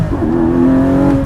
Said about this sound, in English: if I'm gonna hit the auto blip and go into first